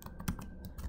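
Quick keystrokes on a computer keyboard while entering data into SPSS, a brief cluster of soft, close clicks in an uneven rhythm with no voices.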